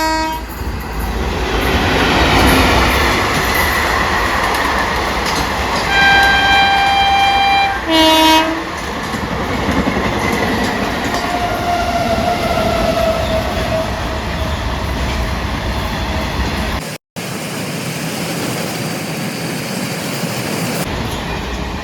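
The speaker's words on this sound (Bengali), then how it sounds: "সামনে দিয়ে আসছে 13161 কলকাতা থেকে বালুরঘাট তেভাগা এক্সপ্রেস।" The 13161 Tebhaga Express, running from Kolkata to Balurghat, rolls past loud and close with a constant rumble of wheels on rails. Two horn blasts sound early, and a metallic squeal follows later.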